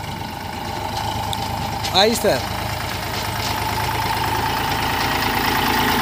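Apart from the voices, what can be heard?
Sonalika 60 tractor engine running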